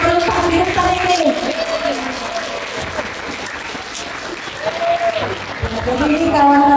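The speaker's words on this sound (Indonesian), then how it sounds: "beri aplaus ya untuk anak kita yang berempat di depan ini" Loud, sustained crowd applause at a Maulid Quran memorization (tahfiz) competition final, honouring four children at the front, a dense clapping wash lasting several seconds with a voice carrying over it.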